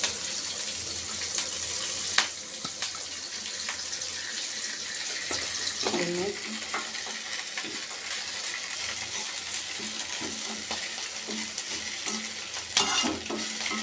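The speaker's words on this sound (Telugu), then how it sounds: "ఇప్పుడు కరివేపాకు వేయించుకోవడానికి 2 స్పూన్ ఆయిల్ వేసుకుంటాను నేను" Curry leaves frying in two spoons of oil in a pan, a faint steady sizzle with scattered crackles and occasional light clinks of a spoon, no talking.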